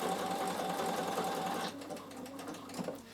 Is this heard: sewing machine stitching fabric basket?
yes